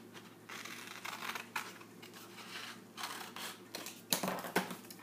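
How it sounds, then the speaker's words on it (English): Scissors cutting paper along a traced line, heard as quiet, close-up crisp snips and rustling paper in short bursts, with one sharper snip near the end. "I'm going to take my scissors and I'm going to cut right along that line that I just drew."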